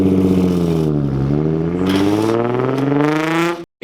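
A car fitted with a cheap Tomei exhaust accelerates hard and loud, its raspy engine note dipping then climbing steadily through the revs before cutting off abruptly.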